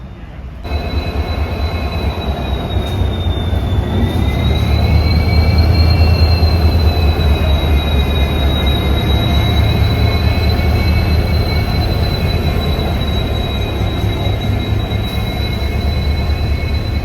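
A sleeper-class coach on a night train from Kolkata to Purulia gives a steady, loud rumble with a thin, sustained high whine running on top, continuous for the whole stretch.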